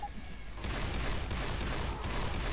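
Gunfire bursts from the video game Left 4 Dead 2, a dense continuous rattle of rapid shots that starts abruptly and stays loud and steady throughout, with no talk over it.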